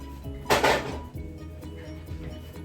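Food is flipped over in a pan during home dinner cooking, a single loud scraping clatter of utensil against the pan followed by lighter clinks, close up, over a soft sizzling background with no talking.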